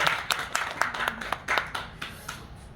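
Scattered hand claps from a church youth service congregation welcoming a missionary, uneven and moderately close, thinning out over a few seconds with faint murmuring underneath.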